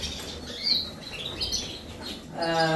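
Canaries in breeding cages give quick, high chirps and short tweets, with faint wing flutters in a quiet room and a brief tonal note at the end.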